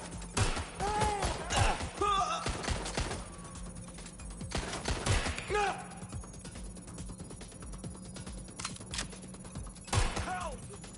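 Gunfire crackles in Watch Dogs: Legion, several sharp bursts of shots spread through the scene, with game voices calling out between them.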